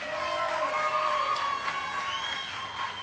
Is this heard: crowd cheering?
yes